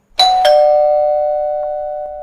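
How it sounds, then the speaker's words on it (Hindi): A doorbell rings two quick strikes close by at a house door, then a bright sustained tone that rings out and slowly fades, with no talking. "लोरेन डोरबेल बजाने लगी।"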